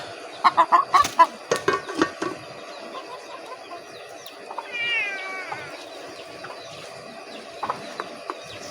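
A cat meows a few times amid outdoor ambience, with hens clucking nearby and some scattered clatter.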